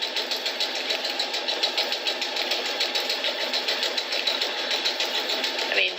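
New home sewing machine stitching forward and then reverse, a fast even mechanical patter of needle strokes running steadily and close for several seconds with no talking.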